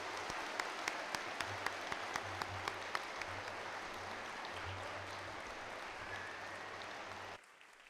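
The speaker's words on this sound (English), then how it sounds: "Let's give them a nice round of applause." Faint, distant audience applause after a school debate at a collegiate institute, a steady wash of clapping with a few sharper claps, ending abruptly near the close.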